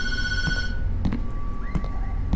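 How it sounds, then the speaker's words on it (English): A telephone ringing in the horror video game Tattletail, a steady electronic ring over a low hum with a few clicks, moderately loud and without talk. "Don't answer the phone."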